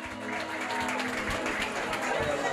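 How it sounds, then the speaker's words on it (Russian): Applause from an audience at a Dargin-language concert as a singer takes the stage, a continuous, moderately distant patter of many hands with some crowd murmur and a faint musical tone underneath. "И под ваши бурные и громкие аплодисменты"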